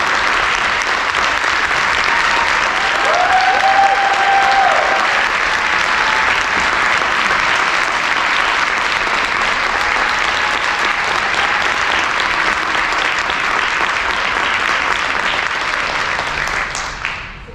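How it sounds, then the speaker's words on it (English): A keynote audience applauds loudly and steadily for a long stretch, the clapping dense and sustained before fading out at the end. "give yourselves a round of applause for being here today"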